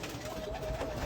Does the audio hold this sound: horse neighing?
no